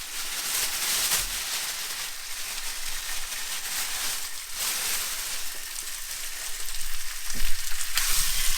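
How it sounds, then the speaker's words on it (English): Cornflour-coated beef browning in olive oil in a pan during simple camp cooking gives a steady, close, crackling sizzle that carries on unbroken, swelling a little near the end, with no talking. "So we've got our beef here that we have already coated in the corn flour. Pop that in the pan."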